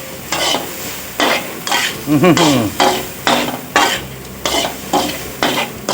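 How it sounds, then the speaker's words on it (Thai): Insects being stir-fried dry in a pan, rhythmic repeated scraping strokes of a spatula over a steady sizzle, close and fairly loud, with a brief vocal sound in the middle. "ผัดให้แห้งให้น้ำออกให้หมด"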